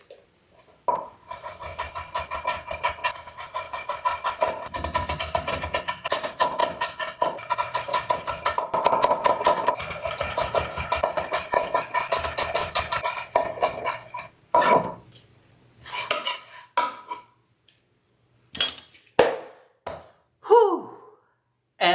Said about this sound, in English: And that was all that cutting.